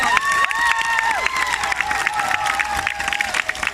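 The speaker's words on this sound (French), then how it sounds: "ceux qui pensent que Alex a mieux réalisé son dessin, applaudissez fort!" A family-day crowd claps and cheers loudly to vote in a drawing contest, dense applause mixed with shrill children's shouts and whoops that fade toward the end.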